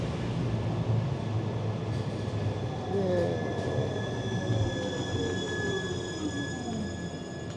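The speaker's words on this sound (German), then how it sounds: "Und da kommt unsere Bahn." A tram rolls into the Kalvermarkt Stadhuis stop in the Netherlands with a steady rumble and high, drawn-out wheel squeals rising and falling, loud and close throughout.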